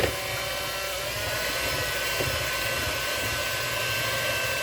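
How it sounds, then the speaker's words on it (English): An electric mixer beats oatmeal pie filling until foamy, a steady loud motor whir that holds constant throughout, close up and without talk. "now I'm going to beat this until it's foamy"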